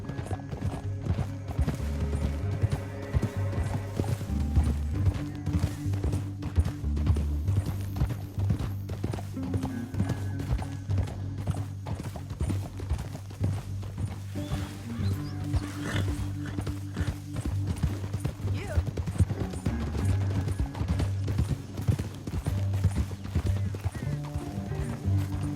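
Horse hooves clip-clopping at a fast pace in Red Dead Redemption 2, a rapid steady drumming carried under low rumbling music and occasional voices.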